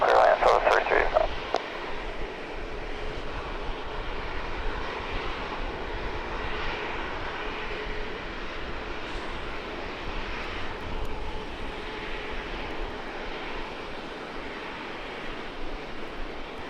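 A Southwest airliner jet landing on runway 27 at San Diego, heard as a steady, sustained engine roar that holds evenly throughout, with a brief louder burst at the very start.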